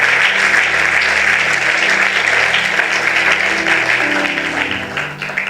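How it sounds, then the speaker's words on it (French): A church congregation claps together in sustained, dense applause that fills the room for several seconds before it thins out and fades at the end. "Maintenant, acclame bien"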